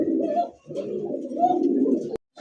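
Racer pigeons cooing close by in a steady run of low, throaty coos, with a brief break midway and a sharp click near the end.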